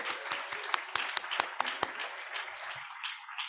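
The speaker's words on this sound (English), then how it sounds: "let's give a round of applause for all of our special education graduates." Scattered, fairly light audience clapping for special education graduates at an education pinning ceremony, with several sharp individual claps standing out before the applause thins toward the end amid faint murmuring.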